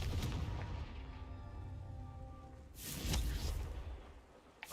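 A Confringo explosive spell goes off in a fantasy video game. Low rumbling booms and a whooshing blast rise at the start and again near the three-second mark, moderately loud with no voices over them.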